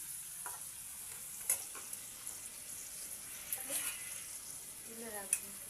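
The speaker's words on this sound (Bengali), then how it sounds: "আমি আলুটা ভেজে নিচ্ছি" Potatoes fry in a pan with a faint, steady sizzle and a few soft clinks and scrapes of a stirring utensil, heard close but quiet with no talking.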